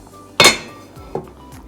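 A metal pot on a kitchen stove clanks sharply once, followed by a lighter clink a moment later, close and distinct while quinoa and turmeric are added, with no speech.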